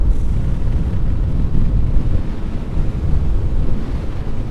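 Strong, steady wind buffeting a helmet with the visor open on a motorcycle ride around the IJssel lake, a loud low rushing roar throughout.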